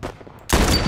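Gunfire in The Last of Us PC Remaster: a couple of faint, muffled pops early on, then a sudden loud, sustained burst of shooting that fills the second half at close range.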